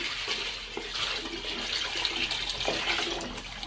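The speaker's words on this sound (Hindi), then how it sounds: "अब हम यहाँ डालेंगे 1 जग पानी।" A large jug of water, about twelve glasses, pours into a pot of chicken yakhni soup, giving a continuous hissing splash that stays fairly loud and even throughout.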